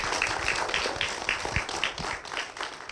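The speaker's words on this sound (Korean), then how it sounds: "박수로 모시겠습니다." An audience at a church broadcast gives a warm round of applause as a guest is welcomed on stage, with dense, even clapping throughout and a faint voice underneath.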